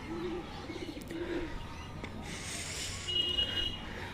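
A hungry pigeon on a rooftop beside its coop coos faintly and intermittently against a soft background hum, with a little talking nearby.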